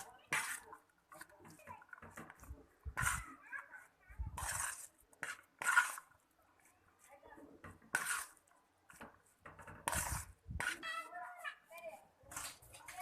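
Puliyogare tamarind rice is stirred with goju in a pot, giving repeated scraping and clattering strokes between stretches of people talking, including a voice.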